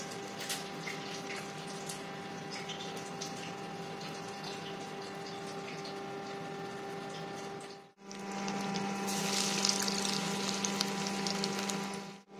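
Brinjal slices fry in hot oil in a wok, giving a steady, dense sizzle that runs throughout with a brief dip before resuming slightly brighter and louder.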